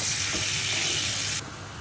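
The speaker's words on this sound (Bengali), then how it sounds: "তো চিংড়ি দিয়ে রান্না করব একটু এগুলো ভেজে নিই" Shrimp frying in a hot pan, a bright steady sizzle that holds for about a second and a half, then drops abruptly to a quieter hiss.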